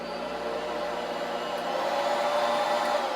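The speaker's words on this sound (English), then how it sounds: "you also notice that it is fairly quiet for a vacuum" A Neakasa P1 Pro pet grooming vacuum runs nearby with a steady, moderate whirring hum that swells slightly louder partway through, heard alone without speech.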